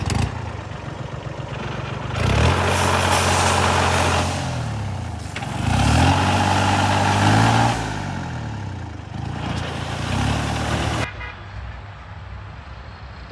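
A farm tractor's diesel engine runs loudly and steadily in a field, its low droning rumble rising and falling in intensity over time, with no voices heard.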